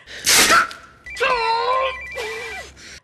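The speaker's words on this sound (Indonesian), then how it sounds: "dia mendapat telepon dari kepala sekolah Zoe" A telephone rings in an action film, heard as two loud bursts of ringing, each a little under a second long. Before them comes a brief, noisy rush of sound.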